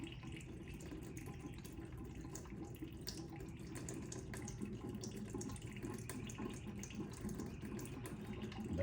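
Coolant from a cut hose on an ATV pours out in a steady, faint, continuous splashing stream with no break.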